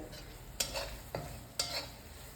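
Mussels dry-frying in coconut oil with chilli masala, a soft steady sizzle cut by three sharp spatula scrapes against the pan, close and with no talking.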